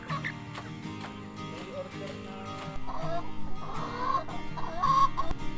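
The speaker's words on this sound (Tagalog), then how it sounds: "260 chickens," Chickens on a farm flock of 260 cluck and chatter softly at close range, with clucks and calls growing busier toward the end over low background noise.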